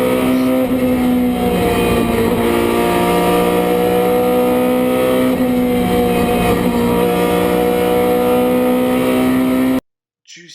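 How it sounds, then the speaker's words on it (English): Race car engine held at steady high revs on a fast lap, a loud continuous drone with shifting harmonics that runs the whole length before cutting out abruptly at the end; a faint voice may sit beneath it. "What you do is listen to the throttle on his high-speed"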